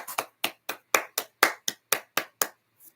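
A single man clapping for himself, about eleven sharp, separate claps at an even, unhurried pace, close and dry against silence.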